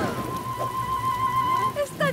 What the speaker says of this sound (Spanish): ¡Está lloviendo demasiado!